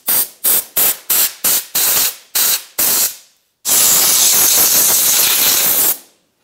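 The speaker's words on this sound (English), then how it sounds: "Just want to take some compressed air and blow off the top of the tank" Compressed air blows dirt off the top of the fuel tank on a 2011-2018 RAM 1500 3.6L: a run of loud, close, sharp bursts in quick succession, then a brief pause and a long steady blast.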